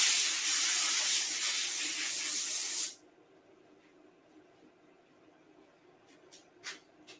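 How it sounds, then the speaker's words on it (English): A hose sprays water onto a machine part to clean it: a loud, steady broadband hiss lasting about three seconds, then cutting off sharply into near silence with a few faint clicks. "let me blow it off with a hose"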